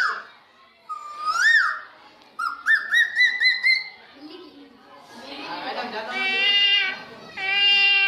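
A voice imitates a peacock call, rising wailing cries followed by rapid repeated whooping notes and longer sustained tones, loud and close in a series of bursts.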